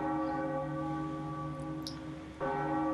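A bell rings in The Legend of Zelda: The Wind Waker HD, in the Tower of the Gods. It sustains a resonant, humming tone and is struck again near the end, heard alone with no voices.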